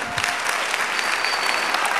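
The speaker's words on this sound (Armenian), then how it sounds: "ծափահարենք բոլորս ձեզ" Steady dense applause from a large audience at a 70th anniversary celebration, loud and continuous throughout with no voices over it.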